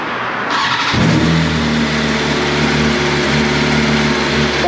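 A new BMW M1000RR superbike with a titanium exhaust fires up for its first start, catching with a sharp burst and then settling into a loud, steady, rumbling idle close by.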